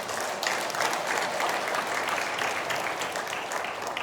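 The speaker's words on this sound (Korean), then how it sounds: "우리 예수님께 한번 박수 한번 쳐주세요" An audience claps steadily through a mission festival at Mokwon University's mission training institute, offering applause to Jesus; the sustained, even clapping fills the space for several seconds with no voices over it.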